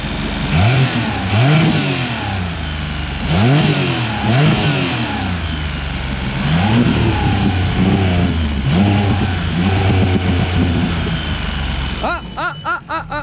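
A Mercury 40 hp outboard boat engine runs at full throttle with a rough, bogging note, its pitch repeatedly swooping up and down in surges; near and loud, with a clattering change near the end.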